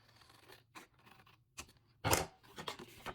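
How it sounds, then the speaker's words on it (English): Scissors make a few quick, quiet snips through a small piece of paper being trimmed for a pocket tag, with brief pauses between cuts and no talking. "I'm going to cut this little piece off right here"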